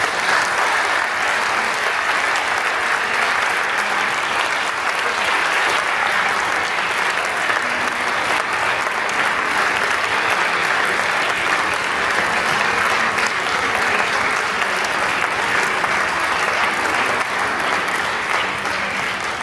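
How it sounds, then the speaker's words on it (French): A long stretch of sustained audience applause at a commemoration event against human trafficking, thick and even clapping from many hands that holds a steady level for the whole span without pauses or speech over it. "Je pense qu'on peut l'applaudir."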